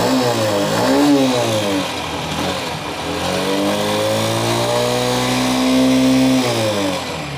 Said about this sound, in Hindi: इग्निशन ऑन किया और स्टार्ट हुई हमारी गाड़ी।